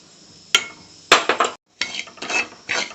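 A spatula scraping and knocking against a kadai as semolina is dry-roasted and stirred for upma, a few sharp metallic clanks followed by dry rasping scrapes, close and fairly loud, with no voices.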